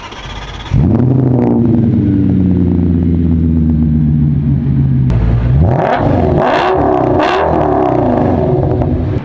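An Audi S6 sedan fires up and revs hard, its engine and exhaust roaring loud and close, a sustained rising drone followed by several sharp throttle blips, with no talking.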